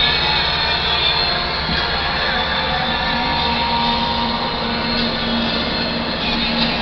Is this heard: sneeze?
no